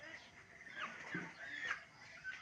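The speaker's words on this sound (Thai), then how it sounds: "อันนี้ก็ไก่เนาะที่ขน้อยเลี้ยงเนาะ" Home-raised chickens cluck in short, soft bursts on a household farm, with a low murmur of voices nearby.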